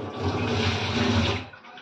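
Water runs from a kitchen tap in a steady, full rushing stream that then cuts off, heard close and alone.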